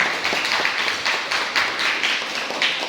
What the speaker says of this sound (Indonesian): Beri tepuk tangan buat kalian